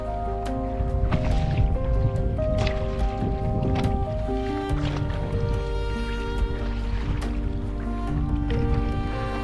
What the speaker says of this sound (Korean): 조금 전까지 잔잔했던 바다는 이제 작은 파도를 만들며 카약에 새로운 리듬을 더해줍니다.